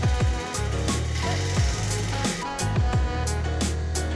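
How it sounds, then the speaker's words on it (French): A small nibbler chews through a metal flashing strip, giving a loud, close, rapid rhythmic clatter of repeated bites with regular pulses over several seconds. "Je découpe mon bandeau à l'aide d'une petite grignoteuse."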